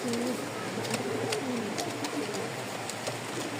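Lahori pigeons cooing softly at a breeding farm, low repeated coos in the first second and a half over a steady background hiss, with faint chirps now and then.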